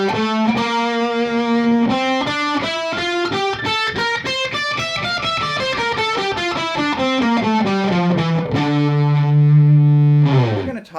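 Distorted electric guitar runs up and down a D natural minor scale in tenth position, single notes in a steady even rhythm, loud and close with no talk, ending on a held sustained note.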